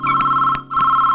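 A telephone rings in short electronic bursts, loud and close, with a brief gap between two repeated tones.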